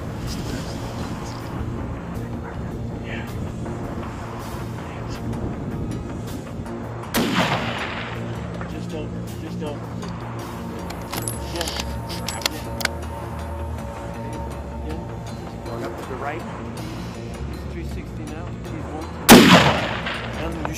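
A rifle shot rings out during an ibex hunt in mountainous Gilgit Baltistan, one sharp, loud crack near the end after a long stretch of low wind and ambient noise, with a fainter thump earlier on.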